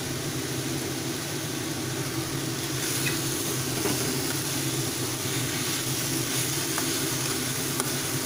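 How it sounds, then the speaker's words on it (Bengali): Grated beetroot and carrot fry down in a pan, a dense, even sizzle that holds steady throughout, moderately loud and close, with no one speaking. "ভালোভাবে একটু ভাজা ভাজা করে নিচ্ছি।"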